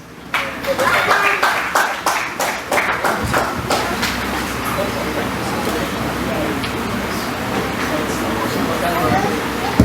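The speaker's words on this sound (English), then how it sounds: "Please, with a clap of it, let's welcome our father." Scattered hand claps ring out for the first few seconds at a Nollywood film launch, then fade into a wash of crowd murmur and room noise.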